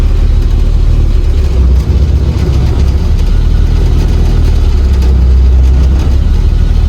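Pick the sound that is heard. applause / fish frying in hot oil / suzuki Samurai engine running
suzuki Samurai engine running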